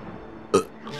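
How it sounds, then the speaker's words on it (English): A single short, loud burp erupts midway through an otherwise quiet moment, brief and guttural, with faint background noise around it. "Sorry, just had to burp that out."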